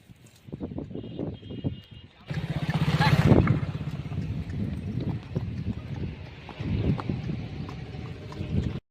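A mare's hooves clip-clop in a steady rhythm on the way to training, close by and continuous, mixed with wind or traffic rumble.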